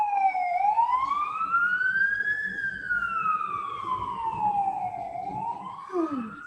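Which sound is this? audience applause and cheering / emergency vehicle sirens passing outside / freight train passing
emergency vehicle sirens passing outside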